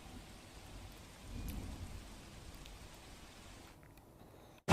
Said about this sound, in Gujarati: સમગ્ર સૌરાષ્ટ્ર ગુજરાતની અંદર જે વરસાદ વરસી રહ્યો છે